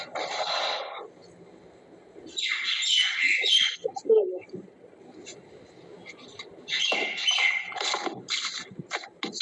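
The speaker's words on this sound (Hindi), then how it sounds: "आचार्य चिड़ियों की आवाज बड़ी अच्छी आ रही है।" Bursts of bird chirping come and go in a few clusters, fairly faint and some distance off, with quiet gaps and a low murmur between them.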